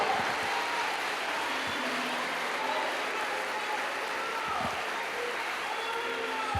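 Sustained applause from a church congregation, a dense even wash of clapping hands filling the space with no pauses, under a faint murmur of voices.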